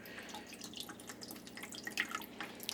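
Water trickles and drips as it drains out of a container of baby tropical fish through fingers, making faint, irregular patters and splashes up close, with no voices.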